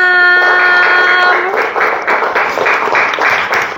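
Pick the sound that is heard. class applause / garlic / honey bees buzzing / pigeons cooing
class applause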